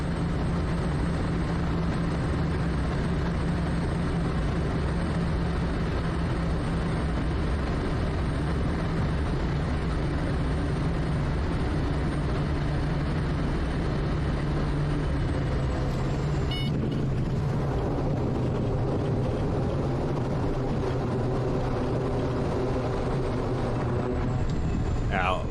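Small airplane engine droning steadily in flight, a loud continuous hum with a steady low tone throughout, briefly disturbed midway by a rustle or bump, with no talk over it.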